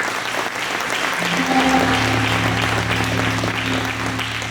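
A church congregation applauds together, a loud sustained wash of clapping from a full room, with a low steady instrumental drone entering partway through and continuing beneath it.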